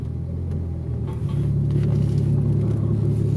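A car's warmed-up engine idling and rumbling low as it backs up slowly, a steady close drone that swells slightly partway through.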